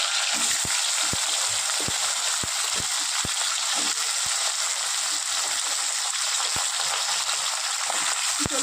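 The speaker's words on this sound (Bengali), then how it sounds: "এবার এটা লঙ্কা ফোড়ন দিয়ে দিলাম লঙ্কাটা একটু ভেজে নেব" Green chillies sizzle in hot oil in a pan, giving a steady, bright frying hiss with scattered soft pops and spatters, close and continuous, with no one speaking.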